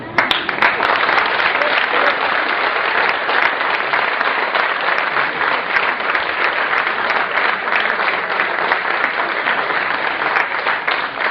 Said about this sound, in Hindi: जो जहाँ पर हैं वहीं खड़े होकर कम से कम 10 बार ताली बजा करके बाहर